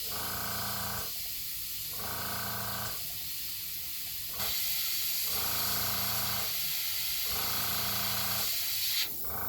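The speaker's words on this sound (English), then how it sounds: "I think I've just kind of sprayed too much white at this point" Airbrush spraying white paint onto a miniature to highlight stars in a galaxy scheme, a steady close hiss in repeated bursts of about a second each, with short pauses, over a constant background drone.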